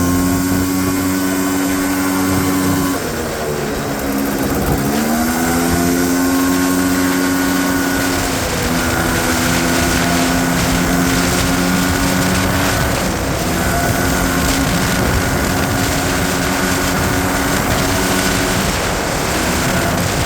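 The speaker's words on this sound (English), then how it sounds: "here's the first run with the Polaris 400 2-stroke carb on it" A Honda Odyssey FL350r off-road buggy engine fitted with a Polaris 400 two-stroke carburetor runs loud and close, revving up and dropping back before holding a steady buzzing drone as it drives along a road.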